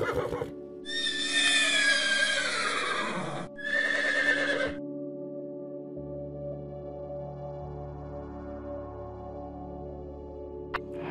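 A horse neighs loudly twice in close succession, a long descending whinny followed by a shorter one, then fades into a low steady background hum.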